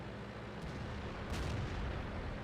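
Gunfire from a video game as enemies on a hill are shot, with muffled booming shots and a couple of sharper bursts, fairly quiet and with no talk.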